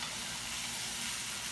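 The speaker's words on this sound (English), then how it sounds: "Hear the sizzle?" Steady, close sizzling of beef frying in a hot pan for stew, a continuous crackling hiss with no voices.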